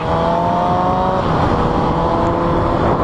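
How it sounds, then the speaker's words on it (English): A motorcycle fitted with a Two Brothers exhaust and sound suppressor is ridden, its engine holding a steady, fairly loud droning hum with light rises in pitch throughout. "Man, my bike sounds so quiet."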